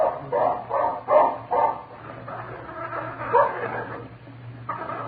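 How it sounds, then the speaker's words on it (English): A dog in a radio drama snarls and yips in a series of rough, rhythmic bursts, close and prominent, with a few whimpering barks breaking through over a low steady hum. "That dog is growling at Phil Furs."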